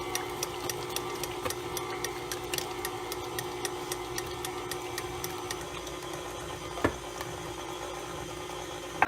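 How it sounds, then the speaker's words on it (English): A KitchenAid stand mixer making weird noises while mixing buttermilk batter gives off a steady mechanical whir with regular ticking clicks and one louder knock near the end, with no talking. "My KitchenAid is making some weird noises."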